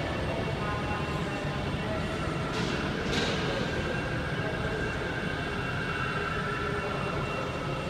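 A train at Glasgow Central railway station makes a steady, even rumble and hum under the echoing concourse, with faint voices in the background.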